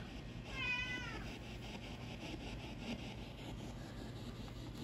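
A cat gives one short meow early on, fairly faint against a constant low rumbling background, followed by quiet noise.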